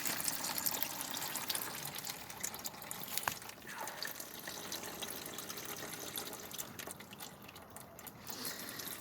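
Transmission fluid trickles faintly and steadily from a loosened pan on a 2008 Dodge Grand Caravan with a 3.3 L engine, a low, continuous liquid pour with no voices over it.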